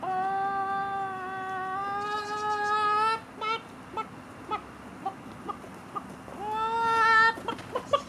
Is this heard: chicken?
yes